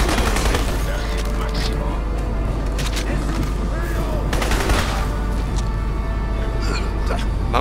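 Sustained automatic gunfire in the Crysis shooter game, a dense stream of rapid shots with a few heavier booms, loud and continuous under a steady low rumble.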